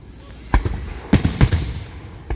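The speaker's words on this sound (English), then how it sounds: "Hopefully the grand finale's up where those fireworks are" Fourth of July fireworks burst at a distance in a short sequence of sharp booms, two close together and another trailing off, each followed by a brief rumbling echo in an open outdoor setting.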